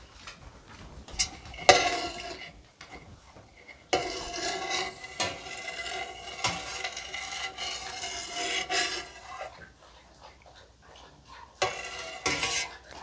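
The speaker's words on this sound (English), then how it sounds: "we'll give that another gentle stir for 1 minute" Slow, gentle scraping and swishing of a utensil moving through cheese curds in a pot for Camembert-style cheese, with soft irregular strokes and occasional louder knocks.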